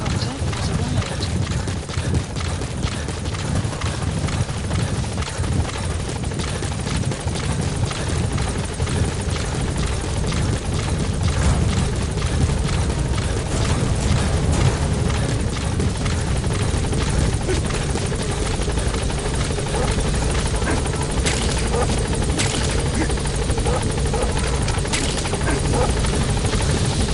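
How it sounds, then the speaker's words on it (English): Support helicopter in Metal Gear Solid V, a steady loud rotor thump and turbine drone hovering close for the whole stretch, with faint radio voices underneath. "Support helicopter has arrived."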